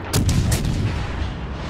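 Main guns of the battleship Champagne fire in World of Warships Legends, a heavy booming artillery salvo with a deep rumbling tail lasting under two seconds, with no talk.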